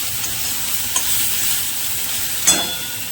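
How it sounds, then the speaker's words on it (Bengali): Torn pieces of pointed gourd (kakrol) fry in a pan with a constant close sizzle, marked by two light utensil taps partway through. "এদিকে কাঁকরোল ভাজাটা হচ্ছে"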